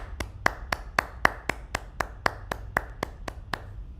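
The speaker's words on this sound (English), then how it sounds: "Let's go ahead and give an applause again for MAV, everybody." Evenly spaced, crisp hand claps from the audience at a medtech innovation awards ceremony, about four per second, steady and moderately loud with no talk.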